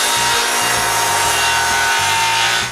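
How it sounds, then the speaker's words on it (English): Wooden exterior planks for a new shop wall being cut at window notches with a hand saw, giving steady, loud back-and-forth rasping strokes in an even rhythm, heard alone at close range. "The first thing we do is to cut notches for the windows."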